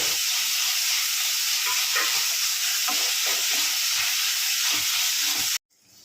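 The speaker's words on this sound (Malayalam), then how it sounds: "ഇനി ഇത് നല്ല പോലെ ഒന്ന് ഒരു ബ്രൗൺ കളറായി വരുന്നിടം വരെ ഒന്ന് വഴറ്റിയെടുക്കാം" Chopped green chillies frying in a pan for a dried prawn and drumstick theeyal, a loud steady sizzle with repeated stirring scrapes that stops abruptly near the end.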